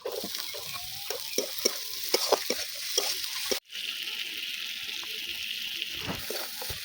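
Chopped onions frying in hot oil in a pan for potol korma, a bright crackling sizzle with knocks and scrapes of stirring, then a sudden cut to a softer, steadier sizzle.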